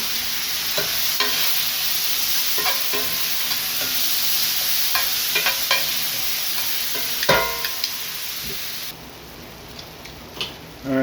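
Onions cook in a pan with a Korean-inspired sauce, a continuous close sizzle broken by scattered spatula scrapes and taps, one louder clatter midway, before the sizzling fades near the end, with no voices.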